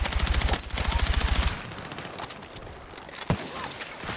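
Gunfire in the video game Battlefield 6, a rapid burst of automatic fire with heavy low thumps for over a second, followed by scattered single shots and crackling battle noise.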